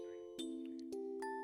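Chimes ring out in the intro of a Snow Patrol song from the album Eyes Open, a few soft bell-like tones struck one after another over sustained held notes, quiet and clear.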